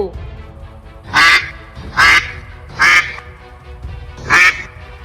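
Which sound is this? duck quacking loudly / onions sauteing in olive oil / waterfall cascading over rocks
duck quacking loudly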